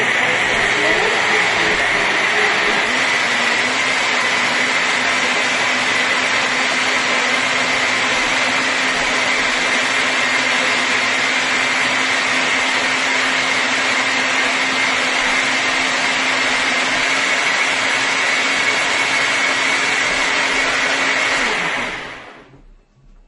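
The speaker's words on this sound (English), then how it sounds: "Let's go ahead and blend this." A countertop blender whirs steadily at high speed for about twenty seconds, blending a banana and blueberry smoothie, a loud continuous motor roar with a faint hum underneath, then cuts off and winds down.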